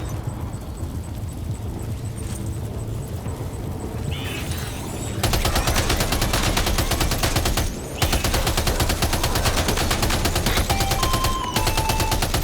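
Dense, continuous gunfire from the video game Death Stranding 2 on PS5, starting as a quieter rattle, then erupting into a loud sustained barrage of rapid shots with a brief break.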